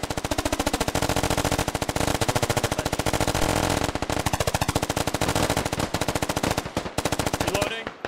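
Suppressive fire in the military shooter Squad, a sustained rapid machine-gun burst with evenly spaced loud cracks running nearly unbroken for several seconds, close and dominant, ending in a few scattered shots.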